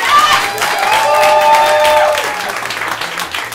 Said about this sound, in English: a special applause here for Austin and Doug for their first show here